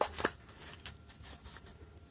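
Tarot cards are shuffled close up and quietly, with a couple of crisp riffling bursts at the start followed by softer, intermittent card slides.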